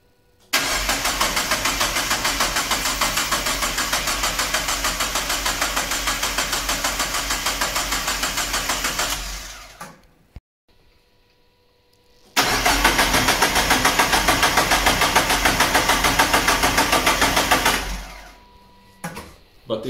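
A Toyota Supra mk3 engine cranking and running, a fast rhythmic churning with a steady pulse that holds loud for several seconds, cuts off, then starts again and runs before dying away, close and dominant.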